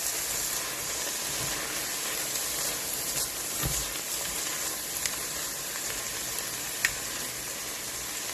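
Vegetables and spices sizzle in a pan for a lamb stew, a steady bright fry with soft crackles and a few louder pops, close and continuous with no voices.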